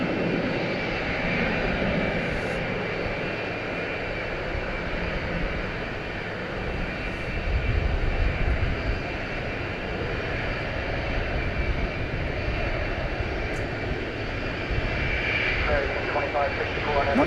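A jet airliner takes off from runway 18 right at DFW Airport in the evening, a steady distant engine roar sustained throughout with a slight swell midway, while people talk over it.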